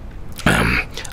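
A voice imitates someone clearing her throat, one short gravelly rasp from a close, fairly loud voice.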